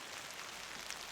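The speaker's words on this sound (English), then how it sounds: "I'm standing outside in the rain with it" Rain patters steadily outdoors in the woods, a faint, even hiss of drops on surfaces with no voices.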